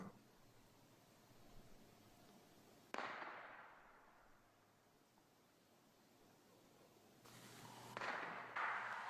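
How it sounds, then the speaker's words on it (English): A distant gunshot cracks once, faintly, in a forest and leaves a long echoing decay. A second muffled burst follows several seconds later, both over a soft outdoor hiss. "I think that was a gunshot."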